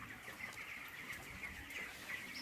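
Broiler chickens about twenty-three days old cluck continuously together in a poultry house, a dense, steady flock murmur at moderate level with no talking.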